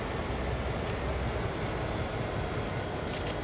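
The CRR Extra 3016 locomotive spins its wheels on the spot during a hill start on the Clinchfield Railroad in Train Sim World 2, a loud, steady, roaring rumble that holds constant throughout.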